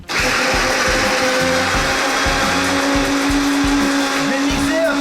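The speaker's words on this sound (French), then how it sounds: "Je vais mixer à peu près 30 secondes." A kitchen blender purées cooked food with its cooking juice, a loud, steady, close motor whine that starts abruptly and runs continuously, with a faint voice briefly underneath.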